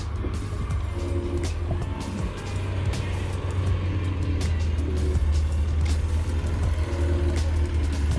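At a Volkswagen Bug Fest car show, a car engine rumbles low and steady close by after starting up, with faint clicks and outdoor crowd noise over the drone and no clear talking.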